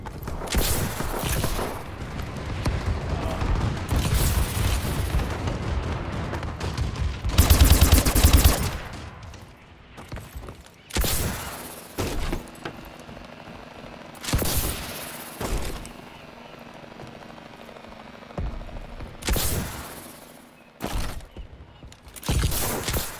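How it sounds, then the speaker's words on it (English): Gunfire and explosions crack and boom during a friendly bombing run in Call of Duty: Advanced Warfare on the Perplex map, with bursts of automatic fire and heavy blasts coming in repeated loud waves separated by brief lulls. "Friendly bombing run clearing the way."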